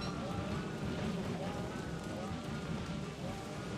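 Frog rain pours down in the video game Don't Starve Together, a dense, continuous patter of rain and pelting drops that stays steady and fairly loud throughout with no gaps.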